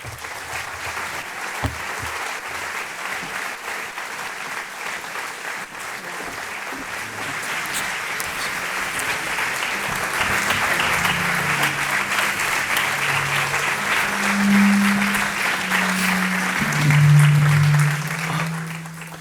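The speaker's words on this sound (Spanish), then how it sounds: "les damos la bienvenida a todos ellos con un fuerte aplauso" An audience at a conference in Córdoba gives a long, steady round of applause to welcome the speakers, the dense clapping swelling slightly toward the end with faint low murmurs underneath.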